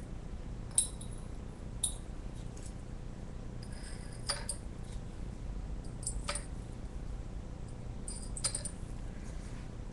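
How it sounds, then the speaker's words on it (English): Glass stirring rods clink sharply against glass test tubes in a lab, in sparse bright taps spread over several seconds above a low steady background hum. "Gently stir the material in each test tube with its own stirring rod."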